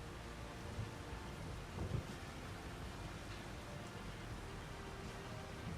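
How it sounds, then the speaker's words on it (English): Rain in Farming Simulator 25 falls steadily as a soft, even wash of noise over a hilly field, with a faint low rumble partway through and no talking. "And it is still raining even though it shouldn't be,"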